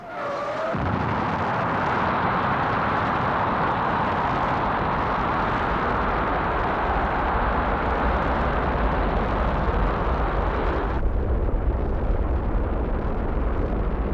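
Titan II rocket launch, a loud continuous roaring rumble that starts abruptly and holds steady for over ten seconds before its upper hiss drops away, leaving a lower roar.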